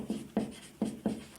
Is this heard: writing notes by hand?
yes